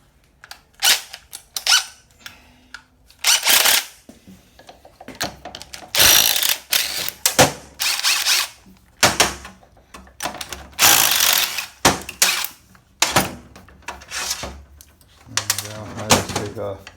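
Ratchet clicks in repeated bursts while connecting rods come off a Porsche 914 flat-four engine during a rebuild, with sharp metallic ticks and clacks, close and fairly loud, interleaved with someone talking.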